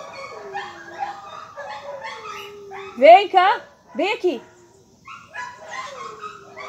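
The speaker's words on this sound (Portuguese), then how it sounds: "Os cachorros estão todos empolvorosos ali." Several excited dogs bark, yip and whimper in short bursts close by, loudest in the middle, while a person keeps talking over them.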